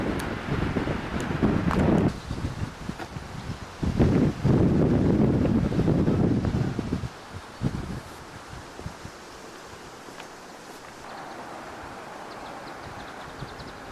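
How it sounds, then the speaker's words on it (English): Strong wind roars and buffets the microphone in heavy gusts, easing to a lighter steady rush toward the end. "Very windy here."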